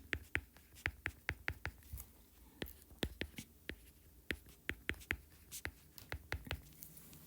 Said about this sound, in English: I'm going to write two things.